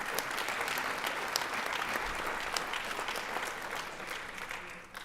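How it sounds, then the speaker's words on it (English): Audience at a school board trustees meeting gives a round of applause, steady clapping from a crowd that holds through and tapers slightly at the end. "Let's give her another round of applause."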